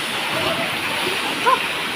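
Pia-aw Falls pouring steadily, a continuous broad rushing roar of falling water close by, with a brief voice rising over it.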